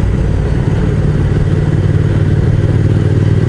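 A BMW motorcycle rides along a mountain road, its engine a steady, loud, close drone with wind rush and clatter throughout, no voices.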